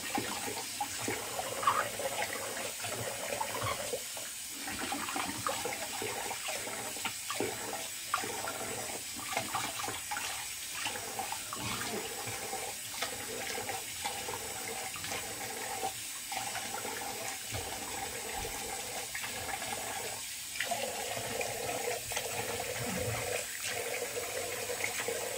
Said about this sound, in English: Rinse off with some cold water.